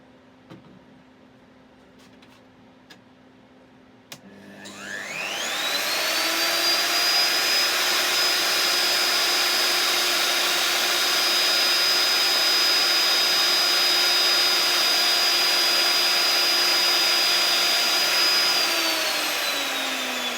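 A router fitted with a guide bush and cutter spins up after a few small clicks and then cuts slots into a wooden shelf for a fire surround, a loud steady high whine holding for about fifteen seconds before beginning to wind down.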